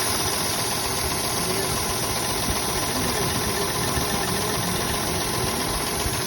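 A Jeep engine runs steadily at idle with a continuous low rumble, a faint knock and a vibrating hum that holds at a constant loudness throughout.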